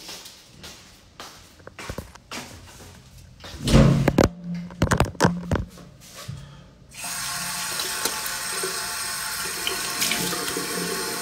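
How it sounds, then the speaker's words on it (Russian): Cold tap water runs into a bathroom sink while someone washes their face, with splashing and handling noises early on, then a steady loud hissing stream of water filling the second half. "Пойду умоюсь холодной водой"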